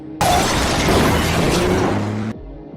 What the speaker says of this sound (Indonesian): Karena dia tidak mau terjadi ledakan besar. Padahal tetap saja ini yang terjadi.